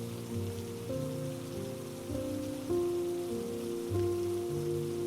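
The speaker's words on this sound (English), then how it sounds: "the rain grew finer until it was only the lightest kiss against her cheeks and hair" Gentle rain falls steadily and softly, a fine, even patter with a low tonal bed running beneath it, calm and unbroken with no voices.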